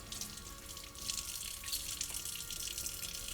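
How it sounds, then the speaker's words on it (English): Tap water runs steadily into a sink as salted eggplant slices are rinsed, a continuous close splashing rush with slight fluctuations from hands moving under the stream. "So we're going to rinse all of these, wash the salt off, wring them out"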